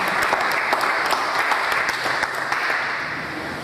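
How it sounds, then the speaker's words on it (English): A round of audience applause at a technology conference in Nigeria, full and dense at first with some sharper individual claps, then easing slightly toward the end. "Another round of applause."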